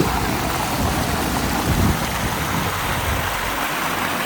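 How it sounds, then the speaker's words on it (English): A small river on the Torres del Paine trail rushes steadily nearby, a loud continuous wash of flowing water with no talk. "Nice little river."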